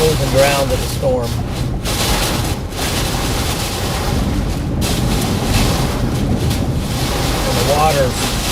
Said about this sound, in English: I'm losing ground to the storm.